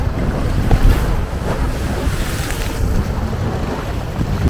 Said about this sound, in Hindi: ये मेरे सामने जो है वो समंदर है